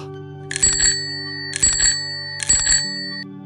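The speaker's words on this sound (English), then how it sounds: "a soft ring, like a child's bike bell" A small bicycle bell like one on a child's bike rings three times at an even pace, each bright ring decaying briefly over a steady low hum.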